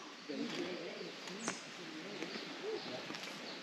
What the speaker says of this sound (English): Ah, the Christmas Island thrush.